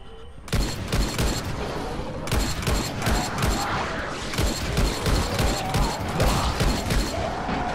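Shotgun blasts fire in quick irregular bursts in a zombie video game, loud and close, mixed with clanking mechanisms and crashes over nearly eight seconds.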